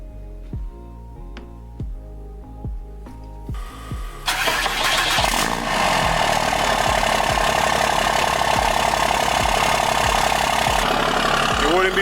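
Truck engine cranks several times in a rhythmic run of starter pulses, then catches and settles into a loud, steady idle with a rough, rumbling exhaust note through an axle dump pipe.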